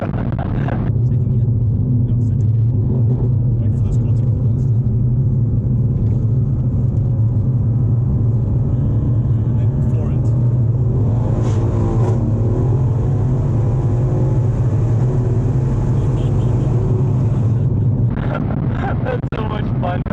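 A Mercedes C63S coupe tuned to 700 hp pulls hard through the gears, its engine a deep, steady loud rumble heard from inside the cabin, with people talking over it throughout.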